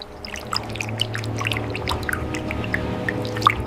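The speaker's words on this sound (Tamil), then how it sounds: "இந்த குழம்பின் உயிரே செக்கில் ஆட்டிய சுத்தமான நல்லெண்ணெய் தான். தாராளமாக ஊற்றுங்கள்." Cold-pressed sesame oil poured generously into a pan for a village pepper gravy, a steady close liquid stream with small drips and splashes, no talking.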